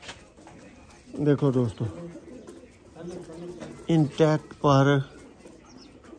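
Breeder pigeons coo softly in the background while someone talks over them throughout.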